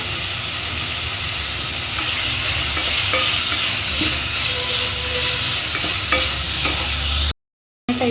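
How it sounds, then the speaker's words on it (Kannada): Green chillies fry in a hot pan for egg palya, a loud, dense, continuous sizzle and hiss with faint stirring scrapes, close up, cutting out briefly near the end. "ಇದನ್ನು ಒಂದು ನಿಮಿಷ ಫ್ರೈ ಮಾಡ್ಕೊಳ್ಳೋಣ ಇವಾಗ ಹಸಿಮೆಣಸನ್ನು ಹಾಕೊಳ್ಳೋಣ"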